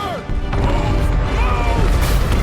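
Set charges going off in the Guardians of the Galaxy video game: a loud, close crash and rumbling blast erupting after a brief lead-in, with debris and heavy mechanical noise churning on, voices faintly mixed in.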